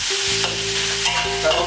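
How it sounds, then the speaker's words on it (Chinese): Pork belly with a splash of cooking wine stir-fries in a wok, a loud, continuous sizzle with scraping stirs and a few sharper spatters, close up and with no talk. "五花肉下锅，点香，滴点料酒，一定要给它煸的出油才香"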